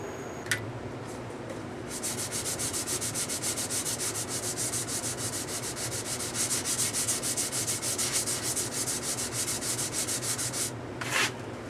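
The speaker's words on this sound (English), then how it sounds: "I'm going to get back to sanding because I don't want any marks left on this." Wood is hand sanded with 240 grit paper on a pad, a close, rhythmic scratchy rubbing in quick back-and-forth strokes that runs steadily for several seconds after a brief pause at the start.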